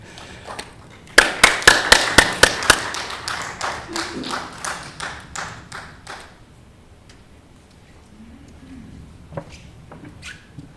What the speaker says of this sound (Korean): 큰 박수로 한번 쳐주시기 바랍니다